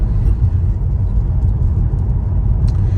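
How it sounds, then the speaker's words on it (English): A Tesla electric car cruises along a road with no engine sound, only a loud, steady low rumble of tire and road noise heard from inside the cabin. "It makes no noise. Yeah, it's just tire noise."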